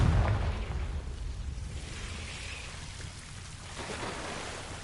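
A Confringo blasting spell goes off in the video game Hogwarts Legacy, a heavy explosion rumbling loudly at first and then fading into a crackling, rain-like wash of debris.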